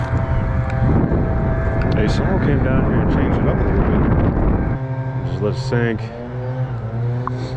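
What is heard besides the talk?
leaf blowers running nearby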